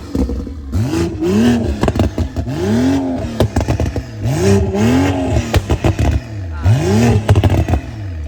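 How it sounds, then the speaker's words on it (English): A BMW M340i fitted with carbon fiber parts revs hard nearby, its engine rising and falling in several loud repeated throttle blips. "Let's give some revs to the fan. Let's go, hit that."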